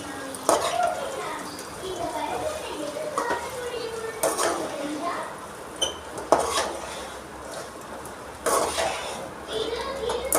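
A ladle stirs boiled, salted food in a metal cooking pot, giving intermittent clinks and scrapes against the pot with faint water sounds. Muffled voices talk quietly in the background.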